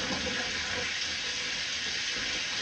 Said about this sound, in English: in the dollhouse kitchen, running the water in the background